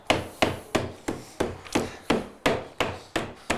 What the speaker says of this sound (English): Give it a tap from the other end and it should go in.